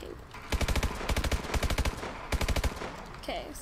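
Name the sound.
gunfire from a gun in a video game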